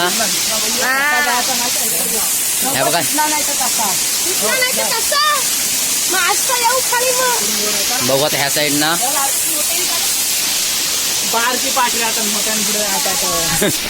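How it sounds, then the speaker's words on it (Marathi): A strong waterfall gives a steady broadband roar and hiss that runs beneath several people talking and calling out close by. "हा बघा धबधबा कडक धबधबा"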